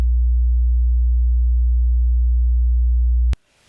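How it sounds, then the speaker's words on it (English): A steady, pure low 60 hertz hum tone holds unchanged for over three seconds, then cuts off abruptly, leaving near silence. "Here is the 60 Hertz signal."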